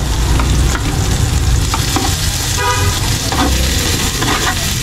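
Chopped garlic and onion fry in hot oil in a pan, giving a loud, close, steady sizzle with occasional stirring scrapes and no talking.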